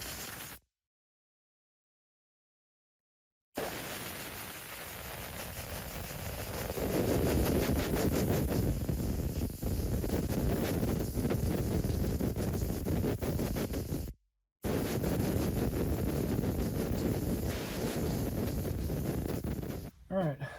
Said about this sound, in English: Blow this out with my air hose.